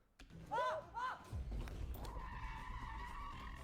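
A truck skids with a brief squealing tire screech, followed by heavy thumps and a rumbling drive, while voices talk over it.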